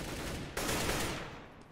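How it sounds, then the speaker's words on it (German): Gunfire in the video game CS:GO erupts abruptly as a loud, close burst of shots, then fades with reverberant decay, with no voices over it. "Zwei Schüsse, beide treffen."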